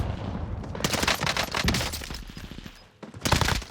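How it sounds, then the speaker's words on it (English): Shotgun fire in Call of Duty Warzone comes as a few loud separate bursts, then a short lull and a final heavy burst. The shots sound moderately close, with no talking over them. "Wait, is this guy using a shotgun?"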